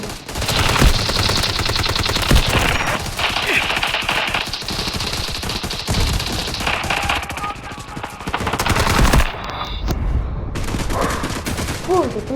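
Machine gun fire in the video game Delta Force, with dense, loud bursts of rapid automatic shots over several seconds and brief gaps, while a player talks over the gameplay.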